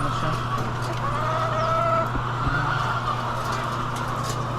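Native chickens in a large poultry building housing thousands of birds cluck and chatter in a dense, continuous mass, with a few sharper calls standing out and a low mechanical hum underneath.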